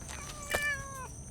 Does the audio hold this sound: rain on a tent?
no